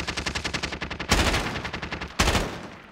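Automatic weapon fire in Call of Duty Warzone: a rapid rattling burst of gunshots followed by two louder, heavier bangs with reverberating tails, loud and close.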